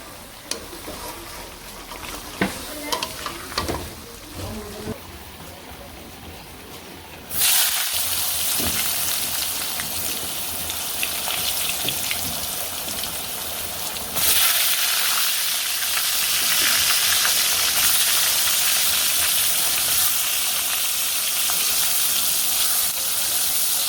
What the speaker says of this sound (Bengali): তো সবজিটা কষিয়ে নিই